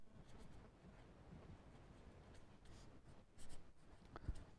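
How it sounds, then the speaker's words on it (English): Pen or chalk writing by hand during a lecture, faint continuous scratchy strokes with small taps, quiet and close. "let me write it down."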